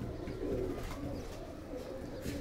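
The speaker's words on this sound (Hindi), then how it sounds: "काफ़ी कड़वा कबूतर है ये आप इसकी आँख देखें" A Ferozpuri and Faqeergull mix pigeon gives soft, low, continuous cooing close by while being held and handled, with faint background noise.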